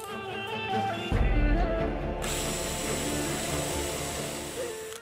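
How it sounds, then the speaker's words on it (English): A power tool drives screws into oak legs of a garden bench, a steady mechanical whirring with a loud ratcheting burst early on, then a continuous higher whine running to the end. "I'll be screwing them in from the top as well"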